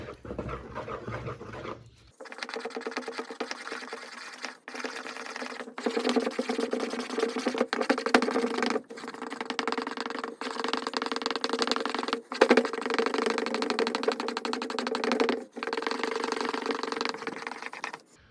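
Sourdough dough being stirred vigorously by hand for several minutes, a steady, close, rhythmic churning and slapping that runs continuously with brief pauses, no talking.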